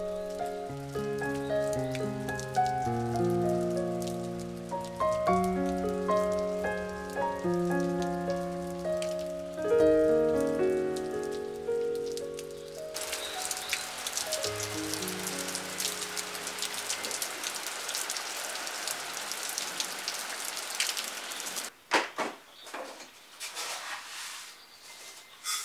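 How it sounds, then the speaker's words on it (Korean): Rain falling steadily at Seokcheonam, a mountain hermitage, as a dense soft patter on surfaces. Gentle melodic music plays for the first half before giving way to the rain alone. "석천암에서 가만히 바라보는 우중 풍경."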